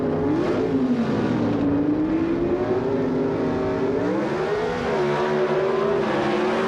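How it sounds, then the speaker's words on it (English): Gasoline-burning Pro Stock drag race cars roar down the strip at a 1980 NHRA Springnationals event, a loud sustained engine howl with pitch climbing steadily as they accelerate, continuous and unbroken. "the gasoline-burning Pro Stock cars race to the finish line"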